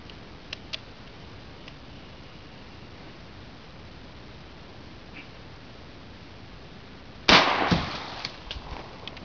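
A shotgun loaded with quail shot fires once outdoors, a single sharp, loud blast with a short ringing tail near the end, after a long stretch of quiet background with a few faint ticks.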